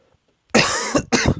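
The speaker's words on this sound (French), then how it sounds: "Pardon si je tousse dans le micro" Two loud, harsh coughs right up close, the first longer, the second following after a brief pause.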